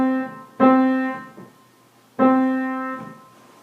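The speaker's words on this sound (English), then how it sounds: "Here's what it might sound like on a piano." Two sustained piano notes or chords struck about a second and a half apart, each ringing and fading, with a softer note trailing after each.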